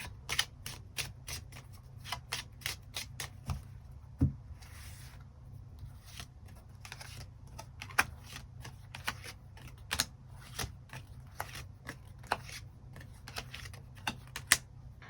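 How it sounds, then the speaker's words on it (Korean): Tarot cards being handled, a run of crisp, quiet snaps and flicks in an uneven rhythm over a faint low hum, close and soft with no talking. "추가 카드 뽑아보도록 하겠습니다"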